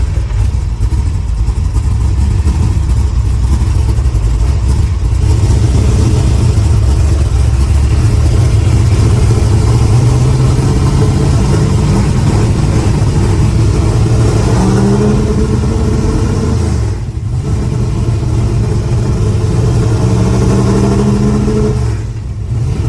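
A car engine with fouled spark plugs runs rough and misfires while driving, a loud continuous drone that rises and falls through several rev climbs and gear changes, heard from inside the car.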